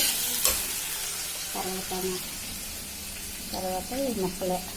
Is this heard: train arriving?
no